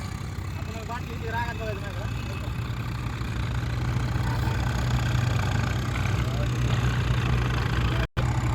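A tractor engine idles steadily at close range, a constant low rumble running unbroken throughout, with faint voices in the background.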